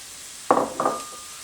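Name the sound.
chopped garlic stirred and frying in a pan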